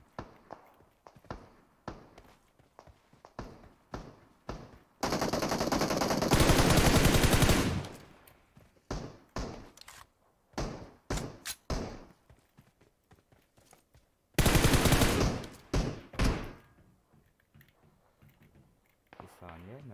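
Machine gun fire in a video game comes in two loud sustained bursts, each lasting a couple of seconds, amid quicker clicking and tapping sounds, with a voice talking in the gaps.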